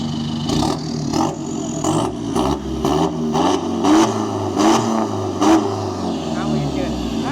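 A car engine revs repeatedly to show off its exhaust note, loud and close, with sharp throttle blips rising and falling over a steady idle while someone talks alongside.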